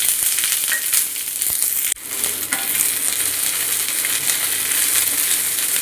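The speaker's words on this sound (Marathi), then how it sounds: "आता तव्यामध्ये मी थोडंसं तेल टाकून घेतलंय आणि हा कांदा आपल्याला भाजून घ्यायचा आहे" Sliced onions sizzle steadily in oil on a tava, a continuous close frying hiss broken by a brief stirring scrape near the middle.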